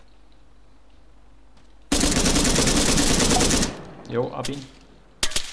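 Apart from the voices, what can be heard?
gunfire in a video game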